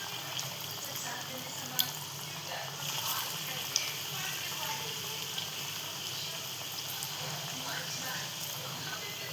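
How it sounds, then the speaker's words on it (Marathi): Taro leaf pakoras frying in hot oil, a steady soft sizzle and bubbling that goes on evenly throughout, with two small sharp clicks partway through and a voice speaking quietly over the cooking. "इथे एक साईडला आपण तेल तापायला ठेवलेलं आणि त्यात सोडून घेतोय"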